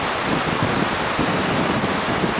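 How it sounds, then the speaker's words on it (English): River water rushes past a temporary low-water road crossing on a stretch flowing toward Wentworth. A steady, loud broadband roar with no pauses and no voices. "That's the flow down there going towards Mildura and Wentworth"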